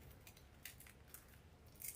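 Scissors snip through the excess end of a zip tie on a deluxe Christmas tree wreath, a few quiet, sharp clicks close by in a hushed room.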